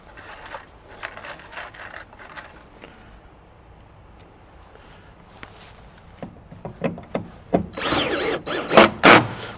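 Power drill driving self-tapping screws through fiber cement siding into a metal profile, starting with scattered quiet taps and handling noise, then building into several loud whirring bursts near the end.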